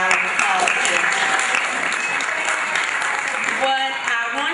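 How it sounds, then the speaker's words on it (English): An audience claps steadily for several seconds, a dense, loud patter of many hands, with some voices and cheering mixed in. "So if you all could give them a round of applause."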